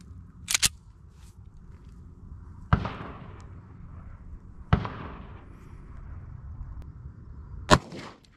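Pistol shots from a .45 auto firing Winchester Black Talon rounds into bear ballistics gel from 15 feet, three sharp distinct reports spaced a couple of seconds apart over a quiet background.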